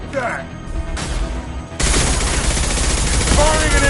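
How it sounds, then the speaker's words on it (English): An impact shot fired in Mass Effect 2 during combat: a sharp burst of rapid gunfire erupts and stays loud, over ongoing battle noise and faint voices. "Firing an impact shot."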